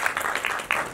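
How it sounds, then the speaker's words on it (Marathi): A crowd claps in brisk, uneven applause, moderately loud throughout, with no voices on top. "एकदा माझ्याकडनं सुद्धा खूप जोरदार टाळ्या तुमच्यासाठी."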